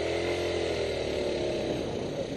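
A 2010 or 2012 Taotao 50cc Chinese scooter engine drones steadily, a buzzy small-engine whine held at moderate revs, close and continuous without speech.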